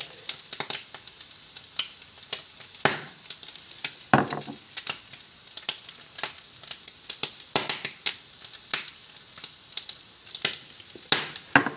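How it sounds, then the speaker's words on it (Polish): A fried egg sizzles and spits in a hot pan, a steady crackling hiss with irregular pops throughout, close and fairly loud, no voices. "a na drugiej patelni smażę jajko nasadzone."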